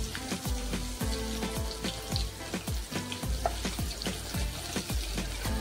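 Cumin seeds, asafoetida and crushed garlic crackle and sizzle in hot oil, a busy close-up run of popping and spattering over a continuous fry hiss.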